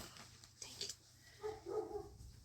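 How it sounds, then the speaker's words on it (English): Dogs bark indoors in a home, a few short barks partway through, moderately faint and at a little distance, with no talk over them. "Dogs are barking, sorry."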